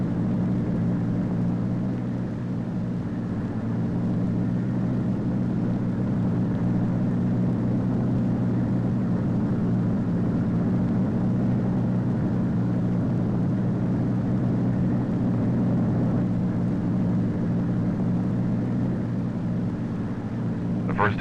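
The Convair XF-92A delta wing aircraft takes off with a steady, sustained jet engine roar, broad and rumbling, holding at an even level throughout with no voices over it.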